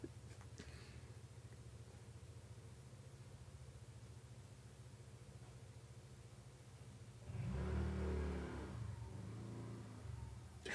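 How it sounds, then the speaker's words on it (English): Outside, a motorcycle passes with a low rumble that swells loudly for a few seconds and then fades, heard indoors over a quiet, steady background hum. "Did y'all hear the motorcycle outside?"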